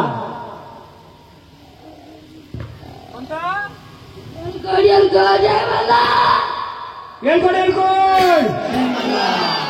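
A crowd at a family kuldaivat jagran gondhal ceremony yells and cheers loudly. The shouting swells into sustained roars with rising calls, and a voice leads it.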